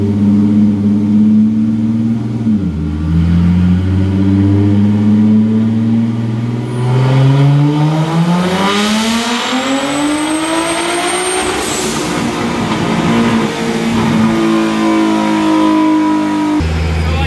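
A turbocharged V6 Mustang engine running on a dyno, at about 9 to 10 psi of boost, roars loud and close through a sustained wide-open-throttle pull, its pitch climbing steadily before the engine drops back to idle.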